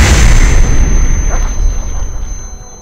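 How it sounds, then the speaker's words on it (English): A thrown bomb explodes in a modded video game with a single loud, deep boom that starts the moment the bomb goes off and then fades over a couple of seconds into a rumbling tail. "You can also throw this bomb."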